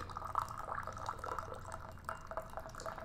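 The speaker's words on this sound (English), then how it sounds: "Sometimes you're pouring, you get a vapor lock, you just have to lift the lid." Steeped loose green tea pours from a teapot in a steady, fairly quiet liquid stream, with faint splashing and gurgling and no voices over it.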